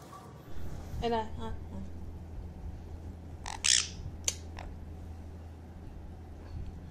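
A bird close by gives a few short, harsh squawks, spaced apart over a low steady hum.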